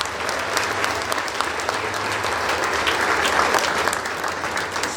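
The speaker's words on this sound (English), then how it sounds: "I wish to invite everyone to give of yourself a round of applause for a job well done." Audience applause at a Jamaica 60 Diamond Jubilee gala, a sustained, dense, even round of clapping from a large crowd filling the room for several seconds.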